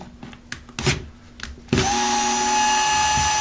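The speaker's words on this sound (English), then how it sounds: "unscrew these two screws. this whole thing is going to come off." Power drill on an Echo SRM 225 string trimmer, running steadily and loudly from about halfway through after a few quieter clicks and handling knocks, a continuous close whir removing the housing screws.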